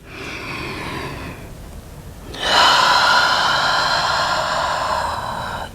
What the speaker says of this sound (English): Breathing here for a few rounds of breath.